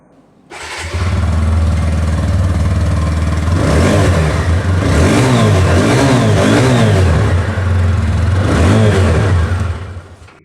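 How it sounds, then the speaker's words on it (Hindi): A 160cc motorcycle's exhaust barks into life close by, then the engine is revved repeatedly in rising and falling surges before settling and cutting off, loud and with no talking. "मैं आप लोग को यहाँ पर इसकी जो एग्जॉस्ट साउंड है वो भी मैं आप लोग को यहाँ पर सुनाना चाहूँगा।"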